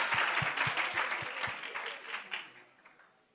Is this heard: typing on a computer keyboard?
no